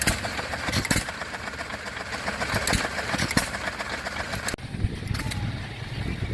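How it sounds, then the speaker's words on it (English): A small vintage stationary engine at a heritage gas and steam show runs steadily while grinding corn flour, a continuous rhythmic chugging close by amid outdoor crowd noise. "These little engines, they just go all day."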